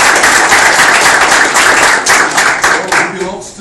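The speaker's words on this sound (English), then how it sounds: "Let's clap your hands." An audience claps for a teacher at an evening talk event, a dense burst of many hands in fast irregular rhythm that gradually thins and fades out over a few seconds.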